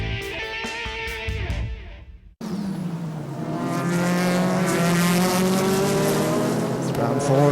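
Nissan-powered 3.5-litre V6 GT race car coming past on the SUGO circuit during a Japanese Super GT 300 km race, engine note rising loud and sustained after a brief cutaway, with commentary over it.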